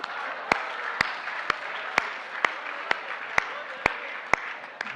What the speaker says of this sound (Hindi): जिसको खुशी हो ताली बजाना, वरना मेरे से चिढ़ते हैं